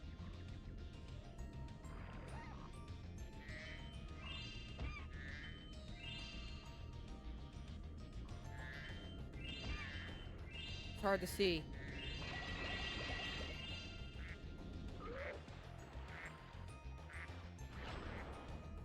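Quacking and honking from a duck or goose character in the Spyro 2: Ripto's Rage! video game, repeated calls over game music and water sounds, with a player talking at times.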